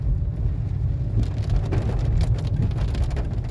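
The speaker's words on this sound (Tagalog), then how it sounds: "Lakas ng ulan, lakas ng hangin pati." Heavy typhoon rain pours down in a constant roar while strong wind rumbles and buffets nearby.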